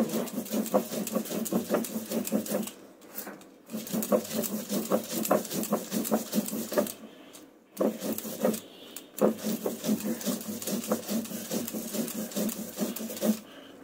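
Sesame, poppy seed and green chilli paste being ground for a Bengali dish, a steady rhythmic rubbing and grinding that runs in repeated bursts with short pauses, close and moderately loud, with no talk.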